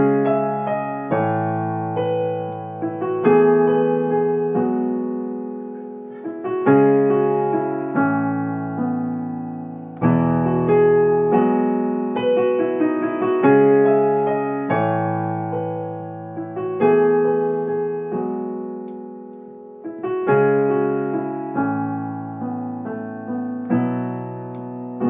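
Solo piano plays a simple beginner arrangement of songs, with steady sustained chords in both hands and a recurring melodic pattern. It sounds clear, close and moderately loud, with no voices.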